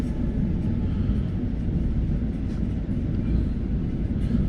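A train rumbles steadily along the tracks past tea gardens in Assam, a continuous low, heavy drone with no break throughout.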